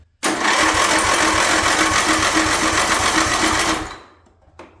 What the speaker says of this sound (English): at this point I just want to know how well it's going to crank over now